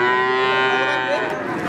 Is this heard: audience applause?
no